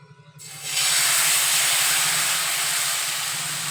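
Jowar flour dosa batter hits a hot pan and bursts into a loud, sudden sizzle after a short quiet moment, then hisses steadily and fades only slightly.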